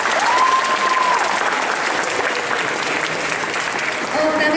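Audience at a cosplay contest applauding prop makers, continuous loud clapping from a crowd for several seconds, with brief whoops and voices mixed in.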